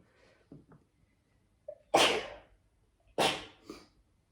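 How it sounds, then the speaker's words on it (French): Two loud sneezes ring out close by, each preceded by a short sharp intake of breath, about a second apart. "J'ai envie d'éternuer, je suis pas allergique aux chiens."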